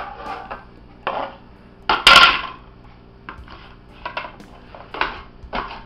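Knife slicing bell peppers into strips on a plate, sharp irregular clicks and scrapes of the blade against the plate, with one louder clattering knock in the middle, close and otherwise quiet.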